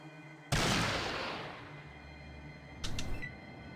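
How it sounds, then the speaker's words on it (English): A single sniper rifle shot in the Fallout video game, a sharp loud crack with a long decaying tail, followed by a smaller metallic clack about two seconds later. "Good old sniper rifle"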